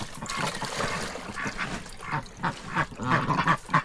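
Ducks quack and chatter close by in irregular bursts, with splashy water sounds underneath and no talking.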